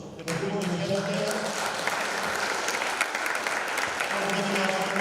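Audience applause fills the room at the closing of a hackathon project showcase in Athens, a steady dense clapping that starts abruptly and holds loud throughout, with some voices talking underneath.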